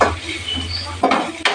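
Salted rice and egg being mixed in a pan for homemade egg fried rice, heard as a low sizzle under a couple of sharp metallic clinks of a utensil against the pan.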